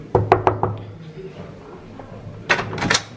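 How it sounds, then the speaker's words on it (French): Knocking on a closed hotel room door, a quick series of sharp raps, then a second burst of knocks a couple of seconds later, with a voice talking faintly in between. "Jérémy Lovcar, s'il veut bien m'ouvrir, parce que là c'est fermé en fait."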